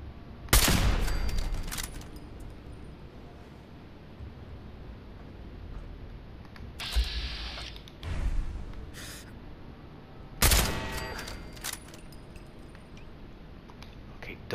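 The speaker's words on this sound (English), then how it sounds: "I hear another turret." Turret gunfire in the game Fallout 4: several short bursts of rapid shots spaced across the stretch, each a loud cluster followed by quieter ambient hiss and faint clinks.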